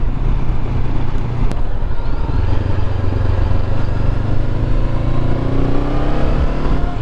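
A Honda CB500X 500cc motorcycle riding along a narrow road, its engine droning steadily and loudly throughout with a rising pitch as it pulls, mixed with constant wind rush over the microphone.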